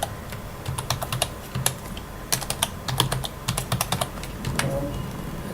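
Password typed on a computer keyboard, rapid irregular clicky keystrokes in short bursts, close up and fairly quiet over a low background hum.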